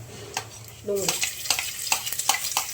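Onion dropped into hot oil with a cumin tempering, a soft sizzle rising as a spoon stirs the pan with several sharp scraping knocks against the metal.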